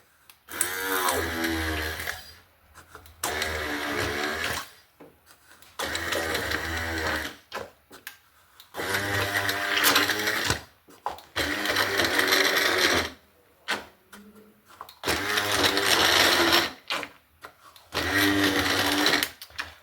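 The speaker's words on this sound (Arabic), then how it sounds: "ان شاء الله راه غادي نطحنوا هاد الدلاحه هنايا" A kitchen blender grinds chunks of watermelon for juice, its motor whining loudly in about six bursts of two to three seconds each, separated by short pauses.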